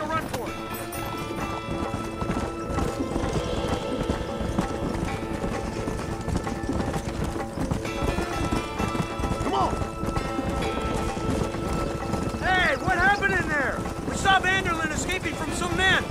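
Horses galloping in the Red Dead Redemption western game, steady rapid hoofbeats under loud music and voices shouting, with a neigh near the end.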